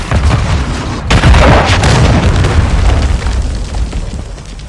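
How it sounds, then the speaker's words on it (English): A grenade blast in Call of Duty: Modern Warfare III erupts in a loud, close boom followed by a long rumbling, crackling tail. "Grenade! Get back!"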